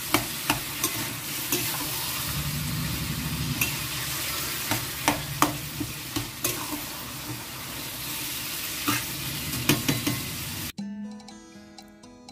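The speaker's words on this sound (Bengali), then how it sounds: "এখন মিক্সিং চলবে, যতক্ষণ এর জলটা টেনে না নেবে ততক্ষণ চলবে মিক্সিং।" Taro stems and yam stirred in a frying pan, a steady sizzle with repeated scraping knocks of the spoon against the pan, close and continuous, ending in a brief different tone.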